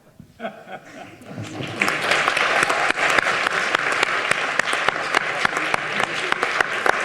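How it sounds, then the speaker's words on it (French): At a conference, the audience breaks into applause that builds within a couple of seconds into steady, full clapping from many hands, with a few brief voices at the start. "J'applaudis."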